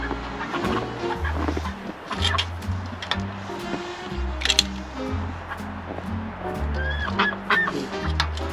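Ducks calling out in fresh snow, a busy flock giving repeated honking quacks over a low rhythmic musical backing, with no voices.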